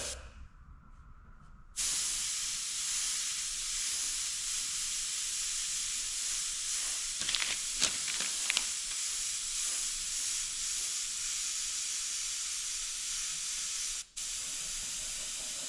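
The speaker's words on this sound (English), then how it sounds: "now we're just gonna be blasting away" Abrasive blaster spraying over vinyl masking on an art piece, a steady loud hiss that starts abruptly after a quiet moment and runs continuously, with a brief cutoff near the end.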